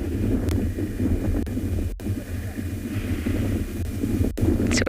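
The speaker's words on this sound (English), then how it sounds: "And just like yesterday, the wind is quite strong." Strong wind gusts across the bush during a sunset safari at Tswalu, a steady, loud, rumbling roar that fills the whole stretch, broken only by a couple of brief sharp clicks, with no voices.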